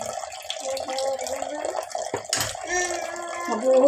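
Tap water runs steadily while dishes are washed at home, with a child and an adult talking over the flow and small clinks of dishware.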